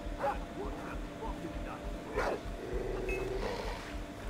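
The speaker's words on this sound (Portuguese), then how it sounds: "Porra de cachorro me viu," A dog in the video game Far Cry 3 yips and barks in short bursts, heard under a man's speech and low game ambience.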